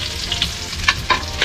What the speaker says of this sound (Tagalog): Mag-gisa na tayo.